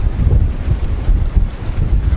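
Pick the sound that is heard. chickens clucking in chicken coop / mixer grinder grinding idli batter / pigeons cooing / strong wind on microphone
strong wind on microphone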